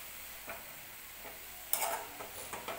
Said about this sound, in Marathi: छान असं 1-2 मिनटं व्यवस्थित परतून घेऊया आपण